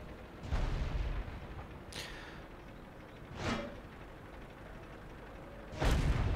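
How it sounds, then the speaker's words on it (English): A tank's 75mm gun fires at a Panzer IV in World of Tanks, with several sharp, heavy blasts spaced seconds apart, each with a booming low thump and brief ringing tail over quiet engine rumble. "Chris is going to empty the gun into that other Panzer IV"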